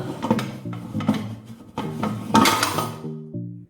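A metal stand set down inside a pressure cooker with a run of loud, close metallic clanks and ringing clinks, several knocks in quick succession, without any talk.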